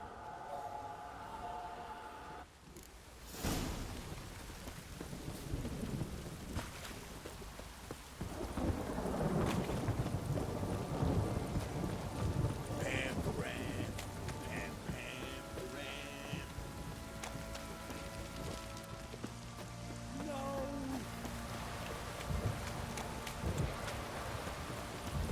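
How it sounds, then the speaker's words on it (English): Heavy rain pours steadily in a downpour in The Witcher 3: Wild Hunt, with deep thunder rumbling and rolling through it and a brief, sharp crack near the start. "This downpour's a bastard, it is."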